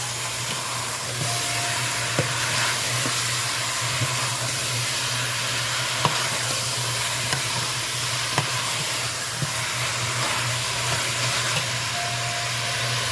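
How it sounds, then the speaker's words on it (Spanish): Sofrito for Cuban ajiaco fries in a pot with a steady, even hiss. Faint clicks and taps from the pot are scattered throughout, and no voices are heard. "ya se está sofriendo"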